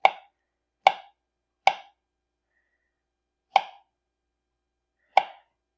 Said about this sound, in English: we're just going to slice it up. I'm going to do like 1/4-inch slices